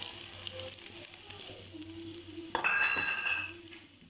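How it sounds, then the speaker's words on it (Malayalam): Oil hits a hot pan with a sudden loud sizzle partway through, cutting in over a quieter hiss of frying. The pan is being heated for a Kerala-style masala chicken curry. "ചട്ടി ചൂടാകുമ്പോൾ നമുക്ക് എണ്ണ ഒഴിച്ച് കൊടുക്കാം."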